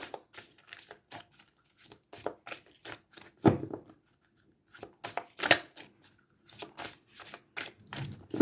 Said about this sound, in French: Alors, je mélange bien le jeu.